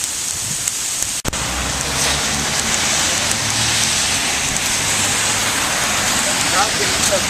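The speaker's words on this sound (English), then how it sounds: "This isn't rain, this is ice, this is hail." Hail pours down outside in a dense, steady hiss of ice pellets striking surfaces, with one sharp knock early on and a voice speaking over it.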